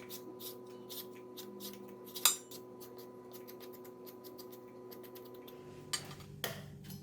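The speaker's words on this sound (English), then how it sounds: "I need to cut the mango first." A knife slicing a mango for a Thai mango salad with salted egg, giving soft repeated cutting taps and light scrapes on a board, with one sharper knock and a few later clunks, fairly quiet and close.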